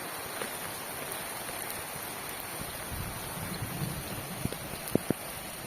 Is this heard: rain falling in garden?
yes